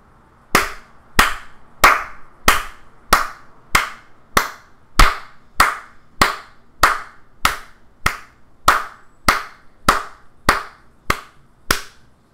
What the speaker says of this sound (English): now when I start clapping, it's going to begin to record class label 4 and associate those with the claps